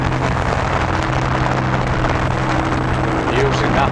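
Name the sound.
boat engine throttling up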